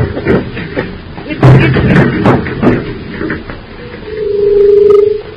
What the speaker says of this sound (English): I gotta break down that door.